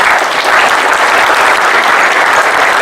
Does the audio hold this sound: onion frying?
no